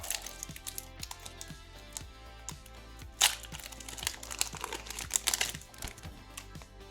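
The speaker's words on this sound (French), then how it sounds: "Et on ouvre ce deuxième booster." A Lorcana trading card booster pack is torn and opened, its foil wrapper crinkling and crackling in close, uneven bursts over a steady backing track, with one sharp rip partway through.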